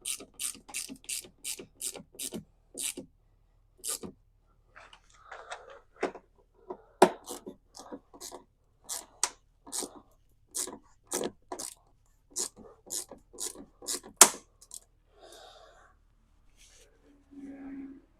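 A hand ratchet tightens bolts while RokBlokz are being installed, giving repeated bursts of sharp, rapid clicking strokes at close range, broken by short pauses and quieter handling noises, with a voice briefly at the end.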